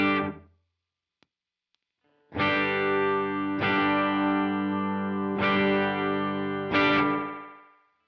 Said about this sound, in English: you can already hear some of the oscillation kicking in on version 2